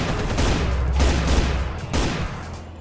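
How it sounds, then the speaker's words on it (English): Gunfire aimed at zombie soldiers in the PC game Brutal Doom, heavy booming shots in a dense, continuous burst with two louder blasts standing out, no talking. "I'm going to try to shoot the head off of one of these zombie soldiers."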